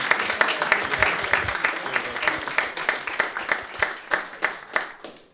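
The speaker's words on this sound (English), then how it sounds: "Massive round of applause for Limio," Applause at a careers fair for a company called Limio: a room of people clapping, starting as a dense patter and thinning into slower, more distinct claps toward the end, with faint talk underneath.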